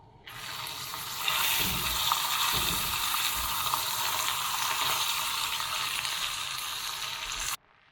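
Pigeon meat sizzling loudly in hot butter with thyme, a steady broadband frying hiss that starts at about a second and runs unbroken until a sudden stop near the end.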